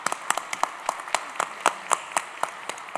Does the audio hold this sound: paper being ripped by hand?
no